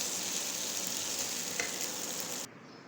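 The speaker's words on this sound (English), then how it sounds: "Now I will mix it thoroughly so that it will become separated" Boiled multigrain vermicelli being mixed in a pan, a soft steady sizzle with faint stirring that stops abruptly near the end.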